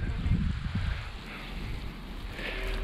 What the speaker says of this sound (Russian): ветер прям на меня такой ветерок поднялся